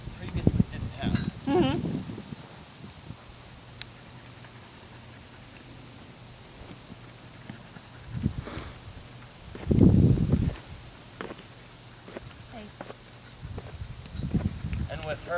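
A horse working at a walk and trot under a rider in self-carriage gives soft clip-clop hoof falls, muffled and intermittent, with rustling and light wind around them and some heavier bursts of movement.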